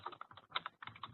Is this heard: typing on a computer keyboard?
yes